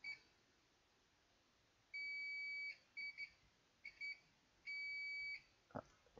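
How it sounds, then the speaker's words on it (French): A multimeter's continuity tester beeps in several steady tones of varying length, some brief and clipped, against a quiet background, while testing an iPhone 6S motherboard. "Et ici, on voit que ça bip."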